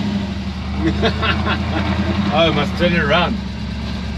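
A 1978 Ford F100 truck engine idles with a steady low rumble throughout, while someone talks over it near the microphone.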